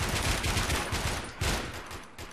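Pistol shots in the video game Warmode, a rapid string of loud, close gunfire bursts crowding together over two seconds with no pause between them.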